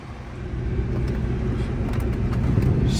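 A car engine idling inside the cabin, a steady low rumble holding even throughout, close and moderately loud with no talk.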